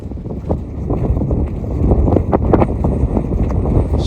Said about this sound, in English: Super windy up here now.